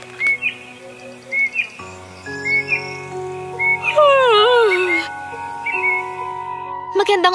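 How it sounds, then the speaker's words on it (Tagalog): Birds chirp in the morning, with scattered short tweets and a few longer warbling calls over a bed of soft music, and a voice speaks briefly partway through. "Magandang umaga mga ibon."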